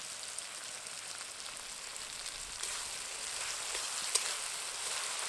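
Ginger and garlic paste sizzles steadily in a pan with tomatoes, a soft continuous frying hiss with faint stirring scrapes and one brief sharper crackle, no voices.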